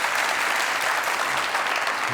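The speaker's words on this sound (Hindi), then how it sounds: "जोरदार तालियां" Loud, dense applause from a studio audience greeting a veteran Pakistani drama actress's entrance on a comedy talk show, a steady wash of clapping with no break.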